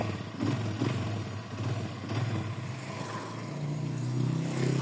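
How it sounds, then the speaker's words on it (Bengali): Lifan KPR 165R motorcycle engine firing up and settling into a low, steady idle, close and fairly quiet, with a faint mechanical clatter over the rumble. "গাড়ির সাউন্ডটা আপনাদের শোনাই স্টার্ট দিয়া।"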